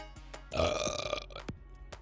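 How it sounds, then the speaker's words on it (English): A single long, loud, gurgling burp plays as a stream sound effect, with a few faint clicks before and after it. "I didn't realize we had a burp sound effect"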